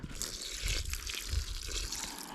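A small ladle dips into a wild lake and scoops out water during a fishing trip: a close, steady wash of splashing and trickling with a couple of slightly louder sloshes, and no voices.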